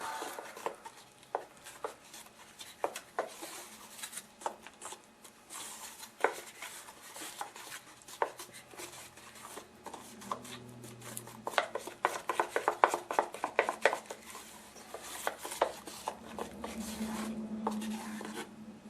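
A small batch of drywall compound being mixed up close, with repeated scraping and tapping strokes of a tool against a container, irregular and fairly quiet, growing busier toward the end.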